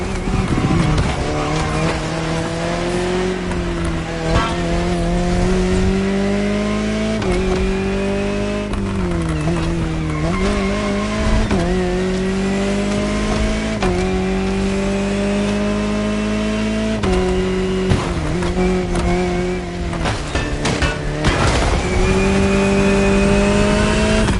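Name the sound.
Jaguar CX-75 concept car driving, video game The Crew Motorfest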